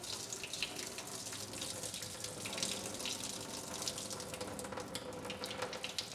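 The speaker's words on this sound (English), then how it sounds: "the color it imparts on the water that pours out will be different" Water pours steadily out of a film developing tank during home colour film processing, a faint, continuous splashing stream with no talking.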